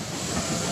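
Steam trains rolling along an 1850s Chicago railroad give a dense, loud, continuous rumble with hissing steam and faint rail clatter, alone with no voices.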